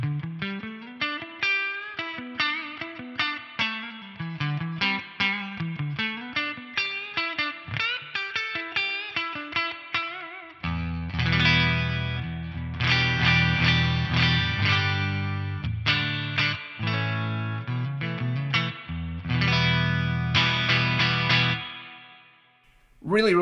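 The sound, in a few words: tube guitar amp reverb cranked up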